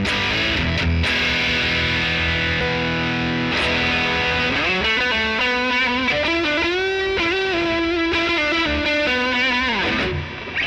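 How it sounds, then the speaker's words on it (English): Electric guitar played through a treble booster pedal, bright distorted chords giving way to a sustained, bending lead line with rich overtones, loud and continuous with no talking. "let's see what that treble booster does for a second."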